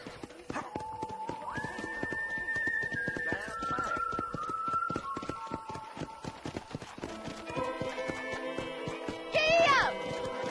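Horses at a ranch corral in Red Dead Redemption clip-clop and whinny amid steady ambience, with a loud neigh near the end and a voice speaking through much of it.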